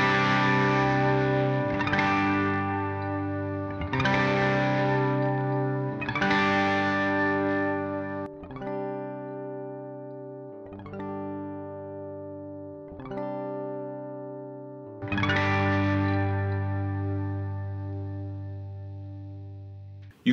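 An electric guitar runs through Line 6 POD HD500x effects, playing sustained, heavily processed chords with chorus, distortion and echo, each chord ringing long before the next strike, up close with no talking.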